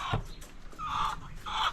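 Chickens in a new coop give a few short clucks and drawn-out calls close by, two clearer vocalizations standing out over quiet background noise.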